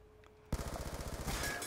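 Rapid automatic gunfire from a Black Ops 2 match, a sustained burst of fast rattling shots after a quiet start, loud and close with no talk over it.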